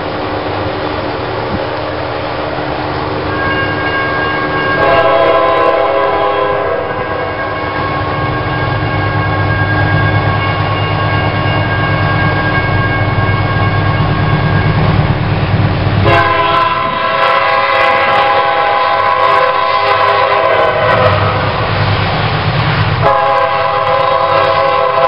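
Freight train passing a crossing in Kingston, with a loud multi-tone horn sounding in repeated long blasts over a steady rumble of rail cars, continuous and close throughout.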